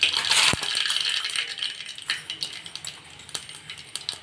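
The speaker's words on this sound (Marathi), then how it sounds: "आता 1 चमचा मोहरी टाकूया" Mustard seeds dropped into a hot pan for tempering while making methi parathas, giving a sharp opening hit followed by a scattered run of tiny crackling pops and ticks that thin out over a few seconds.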